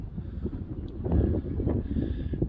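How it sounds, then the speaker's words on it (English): Gusty wind buffets the microphone on an open canyon hillside, a loud, continuous low rumble swelling and easing over a few seconds. "Sorry about the wind."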